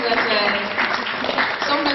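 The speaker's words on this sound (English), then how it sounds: "Give yourselves a round of applause" Dense applause from an audience at a One Billion Rising community event in Donegal, steady and loud throughout, with talk mixed into the crowd noise.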